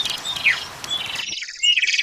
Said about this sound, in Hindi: मीठी चिड़िया टोनी के घोंसले में अपने बच्चों को लेकर आ जाती है